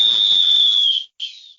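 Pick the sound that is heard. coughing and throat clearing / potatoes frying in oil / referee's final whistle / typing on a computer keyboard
referee's final whistle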